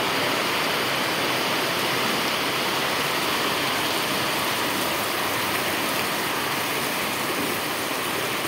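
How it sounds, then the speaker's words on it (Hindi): A dense, steady roar of heavy rain pours continuously in a village, flooding the ground, broadband and unchanging, with no other sounds standing out. "आज तो ज़्यादा ही बारिश है इसलिए पानी भर गया।"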